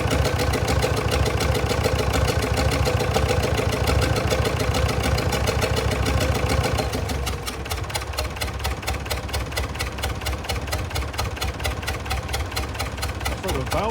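An old tractor engine idles steadily and close by, a dense, even mechanical chatter with a possible stuck exhaust valve, its tone shifting slightly partway through as the running settles.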